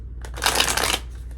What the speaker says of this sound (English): It's a terrible shuffle.